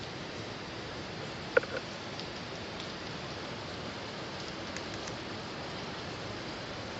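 Steady rain falling during an outing, a dense, even hiss of drops on surfaces that fills the whole stretch, with one brief sharp knock partway through and no voices.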